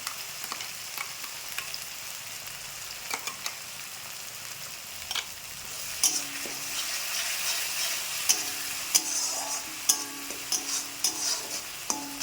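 Ginger, garlic and onion paste with turmeric fries in a pan while being stirred, a steady soft sizzle punctuated by occasional scraping clicks that grow busier toward the end.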